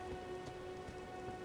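Steady rain hisses across a beach in the video game Elden Ring, a dense, even wash of falling drops with faint low rumbles, alone with no voices.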